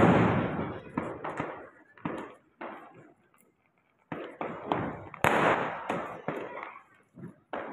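Diwali firecrackers burst outside in a string of sharp, loud pops and cracks, some close together and some spaced apart, with a short quiet gap in the middle.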